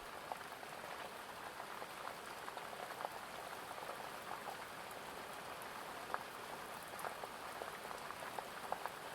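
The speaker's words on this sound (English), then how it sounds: "you close your eyes, feeling so cozy as you listen to that rain" Rain falls steadily on a tent, a dense, even patter with scattered sharper drips, close and soft, with no voices or other sounds.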